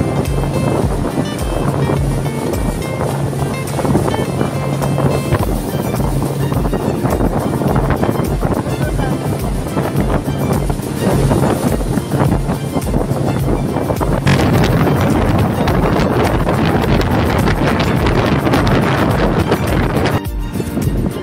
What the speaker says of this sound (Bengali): নামে যেমন স্পিড বোট, চলেছেও সেরকম স্পিডে।